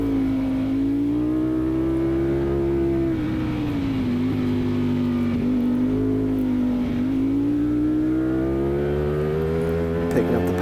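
Race car engine in a CMRA F1 Expert class race at MSR Cresson accelerating out of a left-hand corner, a loud continuous drone whose pitch climbs and dips steadily with shifts, close and dominant throughout.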